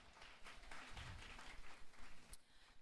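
Audience applause at a school agricultural inauguration and handover ceremony, a steady wash of many hands clapping that holds fairly constant and moderately loud throughout.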